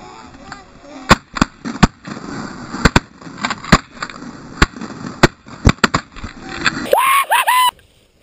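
Shotgun blasts ring out during a goose hunt, a rapid irregular volley of about a dozen sharp, loud reports over a few seconds, with people talking and shouting around them.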